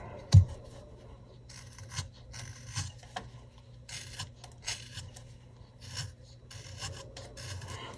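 A knife carving wood with a chattering, raspy scraping, coming in repeated short bursts of rough rubbing strokes, close and fairly quiet with a sharp tap near the start.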